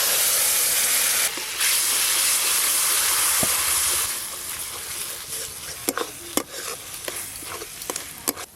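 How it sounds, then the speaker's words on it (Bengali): Poppy seed paste and rinse water hit hot masala in a pan for a rohu fish curry, giving a loud, steady sizzle and hiss that later thins out and is broken by several sharp clinks of a spoon against the pan. "পোস্ত বাটা, মশলার বাটিটা ধুয়ে জলটা দিয়ে দেব"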